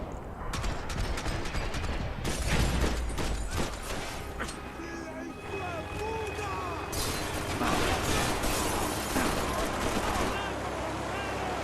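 Gunfire in the Max Payne 3 video game aboard a yacht, with dense bursts of rapid shots at the start and again near the end, mixed with game effects and voices talking.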